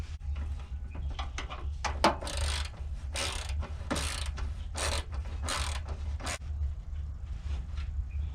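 Ratchet clicking as bolts are loosened on a Ford 3600 tractor water pump: quick runs of metallic ticks alternating with separate bursts of turning, close up over a low steady hum.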